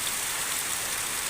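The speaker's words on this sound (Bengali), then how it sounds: "প্রচণ্ড পরিমাণে বৃষ্টি হচ্ছে।" Heavy rain pouring down outside a house, heard from indoors as a dense, steady hiss with no break or pause, fairly loud and continuous throughout.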